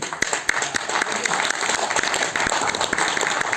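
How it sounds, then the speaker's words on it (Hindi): Audience clapping at a corporate business presentation, a moderate scatter of hands with some sharp individual claps standing out, steady and fairly close with no clear talk on top. "तालियां अगर ऐसी बजी तो मत बजाइए"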